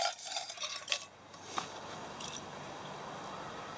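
A light titanium wire-fold knife, fork and spoon are handled, with a quick run of thin metallic clinks and rattles up front, then a soft, steady hiss.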